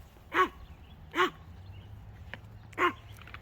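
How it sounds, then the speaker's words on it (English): A dog barks outdoors, giving three sharp, separate barks at fairly close range over a quiet background. "Boo Bear's doing his thing where he barks the whole time"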